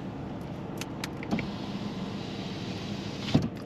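A car's rear electric window whirs shut in a parked car before a driving mock test, a steady motor hum running under faint cabin noise with a couple of soft clicks and thumps.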